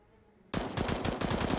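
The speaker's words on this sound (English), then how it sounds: "that was such a small angle for him to shoot through, but Vendetta gets the job done" Automatic gunfire bursts out suddenly after a short quiet moment in a Counter-Strike match on the Vertigo map, with rapid loud rounds rattling in quick succession and a brief gap between bursts.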